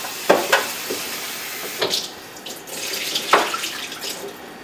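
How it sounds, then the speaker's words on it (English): Soaked cashews are drained and rinsed under running water, with brief splashing, pouring bursts and a steady faint water hiss in a kitchen. "I'm going to drain our cashews."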